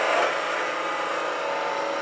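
A wood lathe spins while a spindle gouge turns a large bead on the workpiece. A continuous close whirring hiss of cutting holds steady throughout, with no talking.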